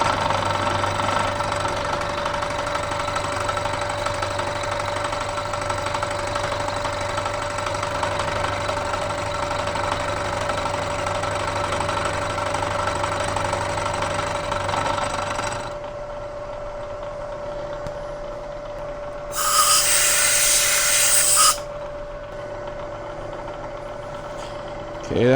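Machining cut on the base of a Black Diamond drill grinder with coolant, a steady mechanical whir with a constant tone that drops off partway through, followed by a short hissing burst.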